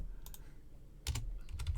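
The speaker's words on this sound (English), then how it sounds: "typing is difficult with one hand." Keys tapped on a computer keyboard with one hand, in a couple of short clustered bursts of clicks, close and fairly quiet, with no talking.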